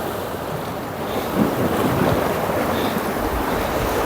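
Sea waves surge and wash around an angler standing on rocks on the Anglesey coast while lure fishing, a steady loud roar of surf with heavy wind buffeting the microphone and no speech.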